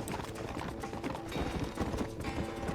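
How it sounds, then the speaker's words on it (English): A horse gallops in the video game Red Dead Redemption, its hooves pounding in a fast, dense, continuous clatter, loud and close, with no talking. "I guess we're riding Miss Doss's horse."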